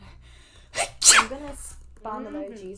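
One sharp, close sneeze bursts out loudly near the start, then a person talks.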